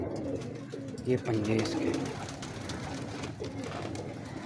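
A pet pigeon coos in a soft, low burst close by while someone talks over it almost throughout.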